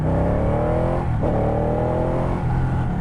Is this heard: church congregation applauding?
no